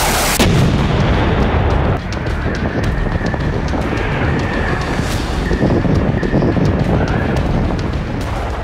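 Heavy, continuous rumbling blasts and booming missile strike detonations on a Russian weapons depot roll together with wind noise, loud and sustained without pause.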